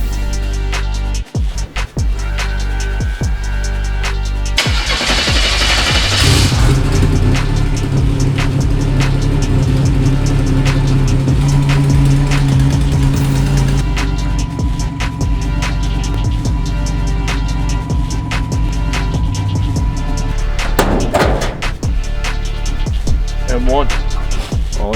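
A car running on alcohol fuel starts moving off on a drive, its mid-pitched engine holding a steady drone with shifting tones and a brief rise in revs, loud and close throughout.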